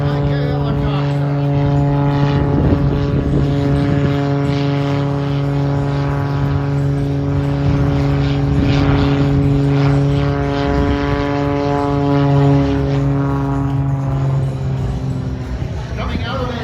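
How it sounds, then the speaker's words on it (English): Aerobatic propeller airplane hovering nose-up on engine power like a helicopter, a loud, steady droning engine roar with a strong low hum that holds throughout, faint voices underneath. "Just hovering the aircraft, very much like a helicopter."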